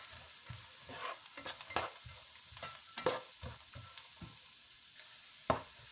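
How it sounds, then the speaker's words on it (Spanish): Carrot and onion cook in butter in a pan, a soft steady sizzle broken by repeated scraping stirs and knocks of a utensil, with one sharper clack near the end; no one speaks. "Venga, y añadimos la zanahoria. Para adentro. Venga, la cocinamos aquí con la cebolla."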